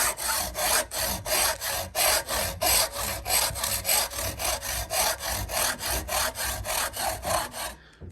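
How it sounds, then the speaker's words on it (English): A hand saw cuts through the plastic clamp on a carbon water-fed pole in steady back-and-forth strokes, roughly twenty even rasps in a close, regular rhythm with no voices. "All we want to do is cut through the plastic clamp here."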